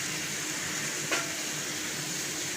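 Masala for achari methi baingan frying in a pan, a steady close hiss of sizzling oil with one brief clink partway through and no talking.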